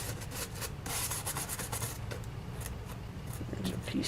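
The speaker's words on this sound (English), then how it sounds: "we'll just lean it up against a hard surface and kind of polish it so that any excess gets taken off" Excess gilded leaf flakes are polished off while the piece leans against a hard surface, making a continuous close rubbing and brushing sound with quick repeated strokes, no talking.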